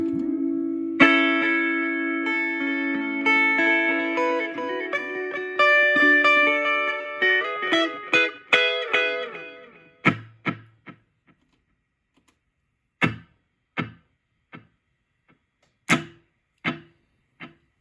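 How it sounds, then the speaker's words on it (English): A guitar played through a Fender Champion 20 amp with a long delay effect rings out in sustained notes that blur together, then short picked notes each trail off into distinct repeating echoes, with no talking. "This is our longer delay."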